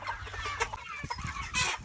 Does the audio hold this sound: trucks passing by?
no